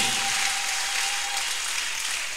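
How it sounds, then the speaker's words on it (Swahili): Church congregation applauding after a call to praise the word of God, a sustained, moderately loud wash of clapping with a faint steady tone underneath, no voices on top. "Tunaweza kusimamia pale na kuchapia neno la Mungu makofi"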